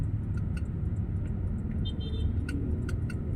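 Steady road traffic rumble with many passing motorcycle engines, a continuous low drone throughout and occasional faint ticking clicks above it.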